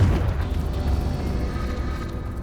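Fiery Confringo spell blasts in Hogwarts Legacy, a steady loud low rumbling boom that rolls on without a break, with no clear separate hits.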